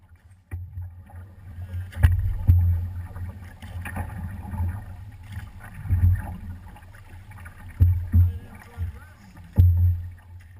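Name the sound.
canoe paddle strokes in water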